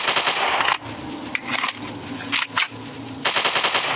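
Rapid automatic gunfire in a dinosaur-hunting shooting game on Android, loud close bursts of machine-gun fire broken by short pauses and a few single shots.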